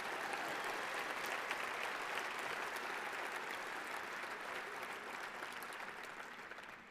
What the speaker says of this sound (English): Let's give this group a huge round of applause.